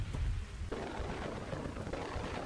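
Rain in the Kingdoms and Castles video game, a steady, moderate hiss of falling rain with a low rumbling swell at the start, continuing evenly with no voices.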